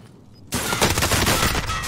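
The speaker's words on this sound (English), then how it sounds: "Look at 3 people turn and shoot at me in duos." Dense gunfire from several players bursts out suddenly in a Call of Duty Warzone duos match after a quiet moment. A continuous loud fusillade of rapid shots follows.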